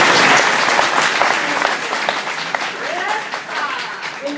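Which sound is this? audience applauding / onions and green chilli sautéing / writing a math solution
audience applauding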